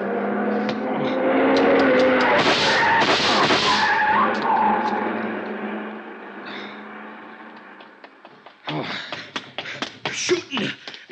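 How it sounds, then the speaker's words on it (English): A car skids with squealing tires and roars away as a radio drama sound effect, loud and sustained for several seconds, followed by a burst of sharp gunshot-like cracks. "See the car, the one that just gunned out."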